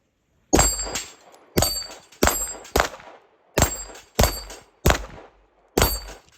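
Eight ringing metallic clangs of 9mm rounds from a Tisas Duty 1911 pistol striking a steel plate rack outdoors, each a sharp impact at irregular intervals with a short fading ring, no talking.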